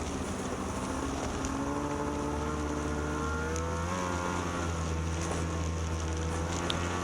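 A 2012 Ski-Doo F800 Sno Pro snowmobile engine drones steadily on a trail ride, its pitch rising and falling slightly with throttle changes under constant wind rush, loud and close with no talking.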